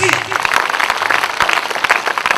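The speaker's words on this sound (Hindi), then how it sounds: "दोस्तों जोरदार तालियां प्लीज" An audience at a stage event claps for Dr. GL Rathi, a burst of lively, uneven applause with individual sharp claps standing out, while a voice briefly carries over the crowd.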